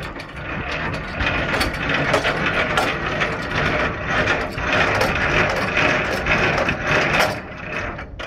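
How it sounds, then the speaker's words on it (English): Trailer landing gear is cranked down by hand, a continuous loud rhythmic ratcheting and grinding of gears, close and steady with no voices. "Now we're gonna bring the landing gear down."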